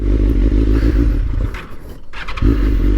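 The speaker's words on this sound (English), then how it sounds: "This bike was actually making a knocking noise." A motorcycle engine runs close by with a rough, uneven knocking rumble that dips briefly and then picks back up.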